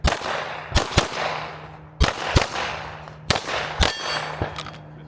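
Rifle shots at an outdoor shooting range, each sharp report followed by a metallic clang of the bullet striking a steel target; roughly three pairs of crack and ring spaced over a few seconds, loud and close with a steady low hum beneath.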